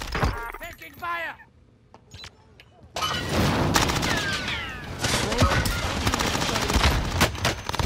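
Bursts of video game gunfire in a tactical shooter, dense overlapping shots and booms crowding the second half after a brief quiet gap, with a voice talking over the action near the start.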